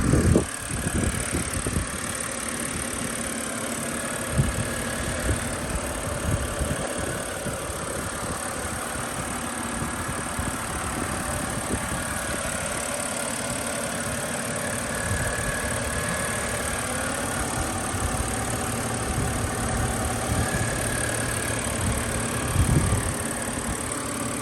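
A 2011 BMW 328xi engine runs steadily at idle, a continuous low hum with faint outdoor background noise and no talking.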